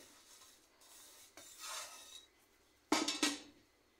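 Crushed vermicelli being stirred into a caramel pudding mixture gives soft scraping and rubbing strokes, a few short rasping swishes with quiet gaps, the last pair louder and closer.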